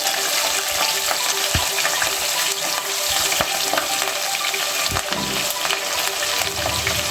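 Chopped green chilies and onion frying in oil for a Telangana-style mutton curry, a loud, busy sizzle with scattered thuds and scrapes as the pan is stirred, heard up close without talk.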